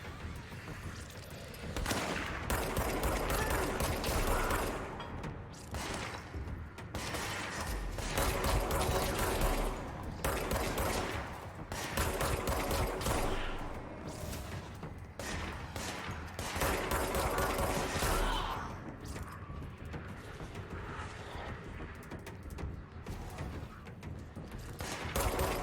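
Sustained bursts of in-game gunfire from the action game Control, set inside the FBC, crackle continuously for the whole stretch, with mechanical clicks and short lulls between volleys.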